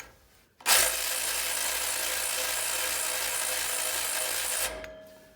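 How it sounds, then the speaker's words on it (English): A Harbor Freight Earthquake XT cordless ratchet spins up abruptly and runs at a loud, steady high-pitched whir for about four seconds while loosening a bolt on a C5 Corvette, then cuts off sharply. "Harbor Freight Earthquake XT cordless ratchet"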